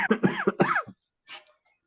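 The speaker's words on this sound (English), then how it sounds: "you still got a cough" Speech-like voiced sounds give way to one short, breathy cough after a pause, close by.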